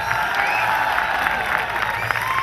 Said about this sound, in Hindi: एक बार जोरदार तालियां बजाइए भाई,